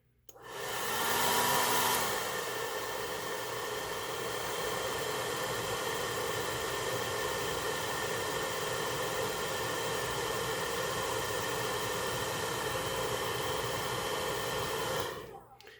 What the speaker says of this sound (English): We're going to hit it with the hairdryer.